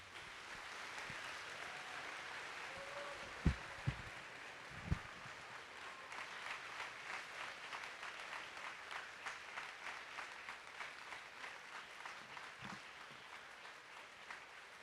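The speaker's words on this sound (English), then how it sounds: "a big round of applause" A school Veterans Day assembly audience applauds steadily for the veterans, a broad sustained clapping across a large room lasting many seconds, with a few louder knocks early on.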